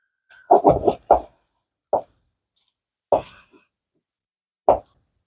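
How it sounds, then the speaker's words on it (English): Hands mix raw chicken Kiev ingredients together in a bowl, making wet, squelchy plops in a quick cluster of three, then single soft squishes at spaced intervals, close and otherwise quiet. "The best way to do this is with your hands to get everything in together."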